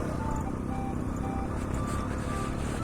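A heavily loaded motorcycle straining in first gear on a steep mountain road to Hikkim, a loud, close, rough low engine rumble that labors without pause.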